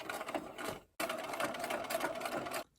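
A sewing machine runs in two steady bursts stitching pieces of a five-pointed fabric star, a brief stop between them, with rapid even chatter of the needle close by.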